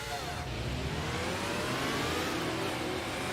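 Mazda RX-7 Icon race car engine in Sega GT, a 1991 model year, revving hard with rising pitch sweeps, loud, steady and close, with no talk.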